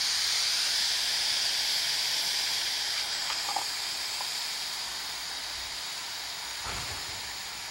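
Steady broadband hiss of steam escaping from the red pressure valve on a pressure cooker lid, loud and continuous throughout, slowly easing, with a few faint clicks and no talking.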